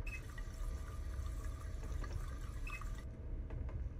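Steady running water from a tap in the 2006 video game Prey, a continuous low rushing splash with faint drips, heard alone and fairly quiet.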